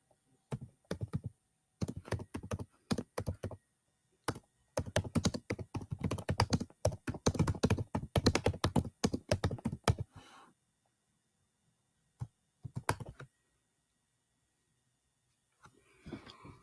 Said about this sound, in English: I'll type it up in the chat too.